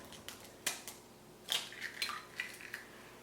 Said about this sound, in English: the first things we're gonna do is crack the eggs, obviously.